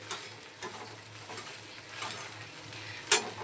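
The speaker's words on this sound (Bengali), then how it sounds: "তো চলো আমি পেঁয়াজ আর সয়াবিন একসঙ্গে ভাজা ভাজা করে নিচ্ছি" Onions and soybean chunks fry softly in a pan in a home kitchen, a quiet steady sizzle broken by a few scraping stirs and one sharp clink near the end.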